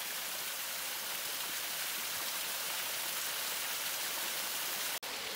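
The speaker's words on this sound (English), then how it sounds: "All right, so this is the first waterfall." Pillar Falls, an off-trail waterfall inside Mammoth Cave, Kentucky, roars as a steady, dense rush of falling water, loud and close, with no talk over it.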